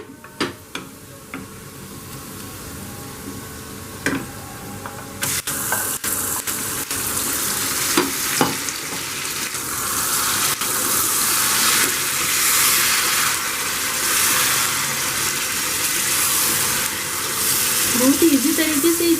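Mutton pieces are added to hot oil with golden-fried onions for Hyderabadi dum biryani, giving a loud, broad sizzle after some scattered clinks and scraping at first. The frying builds and stays steady and close.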